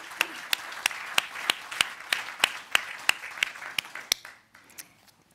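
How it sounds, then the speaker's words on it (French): Audience applause for wounded participants at a Tégo event, a steady run of fairly loud, evenly spaced claps that thins out and trails off near the end. "Je pense qu'on peut applaudir nos blessés."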